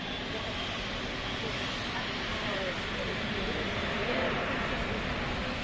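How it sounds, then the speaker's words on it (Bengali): Boeing 777 jetliner passing overhead as a steady, loud broadband engine roar that stays constant throughout, heard outdoors near a crowd. "এই বিমানটি এখন ঢাকা থেকে চট্টগ্রামের উদ্দেশ্যে উড়ে যাচ্ছে।"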